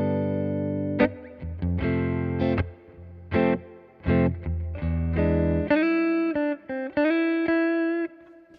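An electric guitar plays through the Flick reverb effect on a Hothouse DaisySeed DSP pedal. Loud, distorted chords and single notes come in short bursts with gaps between them, then a brighter run of higher notes rings out.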